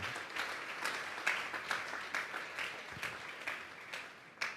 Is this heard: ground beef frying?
no